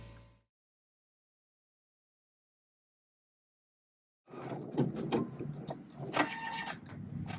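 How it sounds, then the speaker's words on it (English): Kimberbell embroidery machine running a decorative stitch around a small fry container design, starting after a silent gap with steady mechanical whirring and rapid needle clatter, fairly close. "we're going to stitch the decorative stitch around the outside of the fry container"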